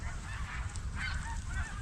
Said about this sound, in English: All the geese are coming back.